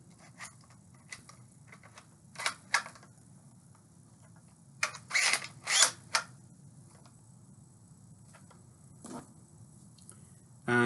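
The bolt of a Rifle No.4 sniper rifle prop, fitted with a moving safety, is worked by hand: a few sharp mechanical clacks and short sliding clicks, bunched near the middle, against near silence.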